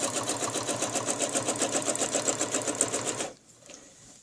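Sewing machine stitching fabric along marked lines, using a ruler guide: a steady, close, rapid mechanical chatter running for about three seconds, then stopping abruptly, leaving faint handling noise.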